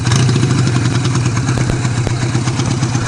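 A small homemade motorcycle engine passing close by, giving a loud, steady, rattling, throbbing putter for a few seconds with no talk.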